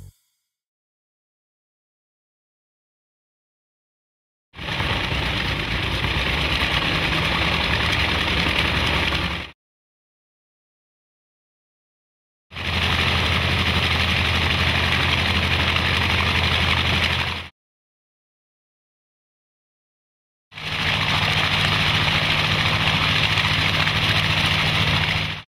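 An airplane propeller engine blows wind at a no-dig vinyl privacy fence, three separate bursts of loud, steady roaring about five seconds each, with total silence between them.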